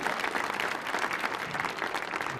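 Audience at a Millennium Stage brass quintet concert applauds a French horn player, a continuous dense patter of many hands clapping at steady loudness with no voices.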